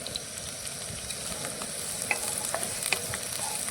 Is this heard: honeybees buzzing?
no